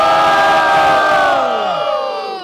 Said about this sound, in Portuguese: quem gostou das rimas do Lit faz muito barulho